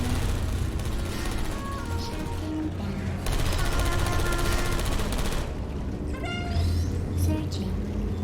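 Turrets in the Portal Stories: Mel video game fire loud rapid bursts of gunfire, broken by short pauses, layered with electronic game sounds and beeps.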